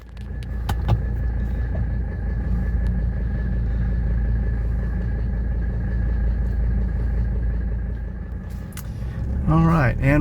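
A 1985 Mercedes 300D diesel car, on a test drive in Georgia, sets off with a steady low engine and road rumble heard from inside, while a voice speaks near the end.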